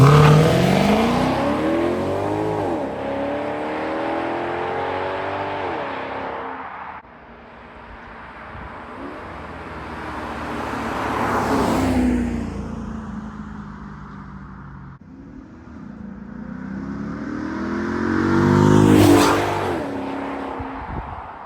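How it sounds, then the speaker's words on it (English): Three loud flybys of an Italian V8 car, each engine roar rising as it approaches and dropping in pitch as it speeds past, with brief gaps between. "You guys probably want to hear some flybys."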